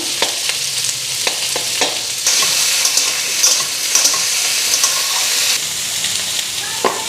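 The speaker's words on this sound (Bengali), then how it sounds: "আলু কোয়াশের লগে ফ্রাই দিয়ে দিব" Potatoes and squash sizzle steadily in a frying pan, with occasional scraping stir strokes against the pan breaking through a continuous hiss.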